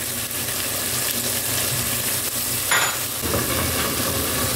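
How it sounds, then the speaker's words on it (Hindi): Chopped tomato goes into frying masala for matar pulao, with a steady sizzle and fry that jumps in brightness as the pieces hit the hot pan. "अब हम इसमें डालेंगे ये 1 टमाटर कटा हुआ"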